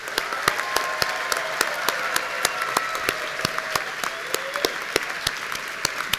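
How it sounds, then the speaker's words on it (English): A graduation ceremony audience applauds graduates in Fish, Wildlife and Conservation Biology, Geosciences and Human Dimensions of Natural Resources, with steady, dense clapping and sharp individual claps standing out, sustained at even loudness throughout. "let's just have one more big round of applause for our graduates"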